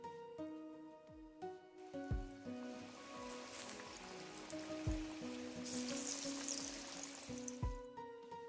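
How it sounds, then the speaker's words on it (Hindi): Falafel balls frying in oil on medium heat, a faint steady sizzle and bubbling with occasional clinks and small knocks from handling, quiet throughout. "इसको हाथ से मिक्स करके बॉल्स बना के मीडियम हीट पे सारे फ्राई कर लेंगे"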